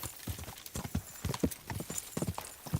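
Horse hooves clip-clop in uneven, closely spaced steps across the ground in the video game Kingdom Come: Deliverance 2, near and moderately loud, with a faint whinny mixed in.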